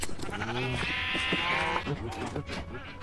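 Sheep in the Minecraft video game bleat loudly and repeatedly, several wavering calls overlapping one after another close by.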